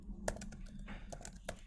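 Keys tapped on a computer keyboard in a short, uneven burst of a few clicks, close and fairly quiet, with no talking.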